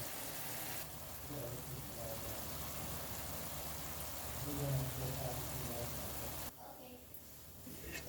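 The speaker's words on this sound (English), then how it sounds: "I'm gonna allow that to just simmer" Pork chops simmering in a pan give off a steady, soft bubbling hiss that runs throughout, with low cooking noise underneath and a brief dip near the end.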